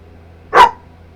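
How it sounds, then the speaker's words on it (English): A single short, loud dog bark close by in a workshop where a shaft boss is being altered, with a low steady hum in the background. "just having a little bark"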